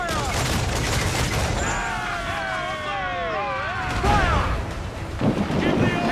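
Ship cannons fire in Assassin's Creed 4 Black Flag during a naval battle, heavy booming volleys rolling over wind and sea noise, with shouting voices and wailing tones layered on top.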